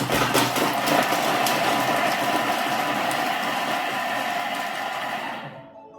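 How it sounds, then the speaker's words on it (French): A kitchen food processor blends a potato croquette mixture with chives at speed 5, giving a loud steady mechanical whir for about five seconds before cutting off. "on va faire un premier mix de 5 secondes. Vitesse 5."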